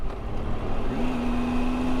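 Cars queue to enter Mount Rainier National Park, heard from a passing motorcycle as a loud, steady engine and road rumble, with a tonal whine that rises and then holds steady.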